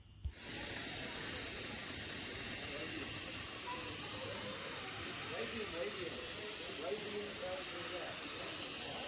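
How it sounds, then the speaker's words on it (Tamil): The old British-era steam engine of the Ooty toy train hisses loudly and continuously after a brief sharp start, with faint voices murmuring underneath the steady rush of steam. "இது வந்து ஒரு பழைய ஸ்டீம் இன்ஜின்."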